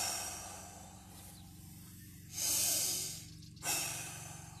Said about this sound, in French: on prend 3 grandes respirations.